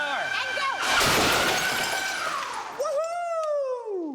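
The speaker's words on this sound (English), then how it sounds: "Instead of throwing the glass, the machine smashed it to smithereens." A drinking glass shatters loudly as a throwing machine at full power smashes it, a sudden bright crash of breaking glass with scattering fragments, followed by excited whoops and shouting from nearby people.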